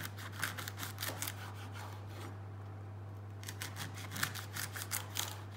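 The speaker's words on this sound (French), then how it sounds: "Et je coupe le poireau." A kitchen knife slices through a leek in a children's cooking lesson: a run of crisp, close cutting strokes, a short pause, then another quick series of cuts over a low steady hum.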